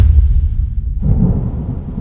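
Deep rumbling thunder, a heavy low roll that fades briefly and then swells again, loud and boomy with no talking.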